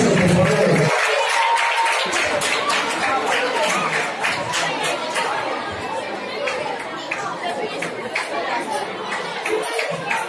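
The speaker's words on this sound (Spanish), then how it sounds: "Un aplauso, por favor." At a school award ceremony for a Christmas story contest, an audience claps for primary-school finalists, a scattered patter of hands mixed with crowd chatter that gradually fades.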